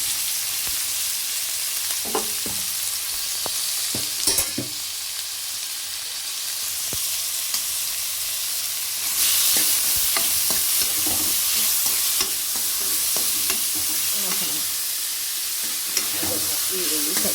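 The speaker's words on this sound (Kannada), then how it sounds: "ಈರುಳ್ಳಿ, ಕಡಲೆಬೇಳೆ ಒಗ್ಗರಣೆ ಹಾಕ್ತಿದ್ರೆ" Onion and chana dal tempering in hot oil, a constant sizzle with repeated spatula scrapes and taps as it is stirred, the frying surging louder partway through.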